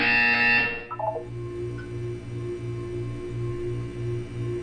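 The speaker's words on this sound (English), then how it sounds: "You will hear a buzzer." A harsh electronic buzz from a Portal 2 video game test chamber sounds loudly at the start, followed by a few stepped beeps and then a steady pulsing low hum.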